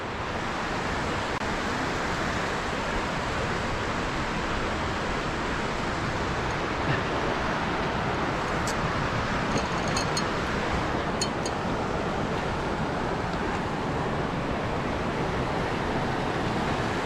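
Fast river water rushes through the Waimakariri gorge near a large waterfall, a loud, steady broadband roar that fills the whole stretch with no break.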